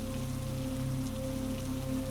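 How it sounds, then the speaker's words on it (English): Steady rain patters on a greenhouse in a storm, a soft, even wash of drops running continuously at low level with a faint constant hum beneath, no voices or other sounds standing out. "the quiet murmur of rain"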